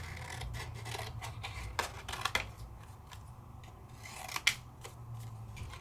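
Scissors snip through paper during a stamping and stencil card-making session, a few crisp close cuts with sharper bursts near the middle and end over a quiet room hum.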